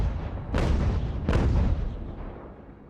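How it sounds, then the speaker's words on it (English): Artillery cannons firing in Ultimate General: American Revolution, two heavy booming shots about a second apart, each with a rolling low rumble trailing off. "Our artillery is opening fire already."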